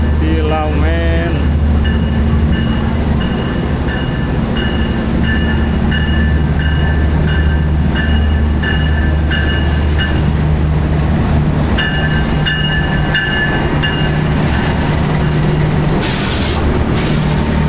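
A Mataram economy-class passenger train rolls along the rails with a loud, constant rumble and rattling of the carriages, heard from inside, with some tonal squeals and faint talk in the background.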